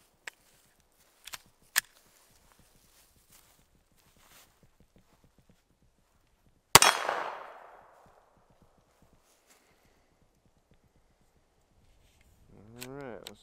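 A single sharp, loud shot from a Glock 44 pistol cracks out and rings off briefly, with a few faint clicks and taps before it and a short voice at the very end.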